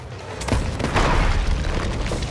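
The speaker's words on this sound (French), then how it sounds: "il y a des canons qui vous tirent dessus aussi" Cannon fire from an island fort in Sea of Thieves, a loud deep boom followed by a rumbling burst that fills the short moment, heavy and close with no speech over it.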